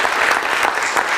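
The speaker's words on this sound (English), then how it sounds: "give her a round of applause for that." People at a Waynesville, Missouri city council meeting break into a quick, close round of hand clapping, brisk and fairly loud for about a second.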